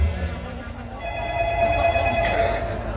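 A telephone rings with a steady electronic bell tone at a live ketoprak folk theatre performance, the ringing sounding through crowd noise and background chatter.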